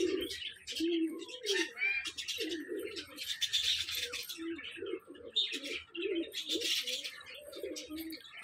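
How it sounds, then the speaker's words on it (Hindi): Pigeons coo over and over in agitated, throaty bursts close by, with bird chirps and tweets mixed in above them throughout. "और इधर सब ये कबूतर गुस्सा कर रहे हैं सही।"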